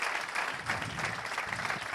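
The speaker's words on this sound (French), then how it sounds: "On peut les applaudir à nouveau." A hall audience applauds trophy winners at a regional business awards event, producing a quiet, dense patter of many hands clapping that carries on steadily throughout.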